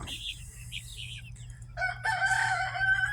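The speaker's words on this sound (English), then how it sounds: "feed the chickens this morning." A rooster crows loudly and close by during morning chores at a backyard coop, following softer clucks and calls from chickens, with a voice faintly underneath.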